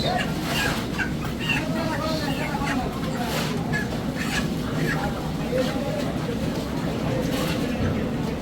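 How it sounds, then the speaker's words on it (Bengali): Live chickens at a village market chicken shop cluck and squawk in short, scattered calls over a steady, busy background of crowd noise and bustle, fairly close throughout. "মুরগি নেওয়ার জন্য আসলাম মুরগির দোকানে আর দুটা মুরগি নিয়ে নিতেছি"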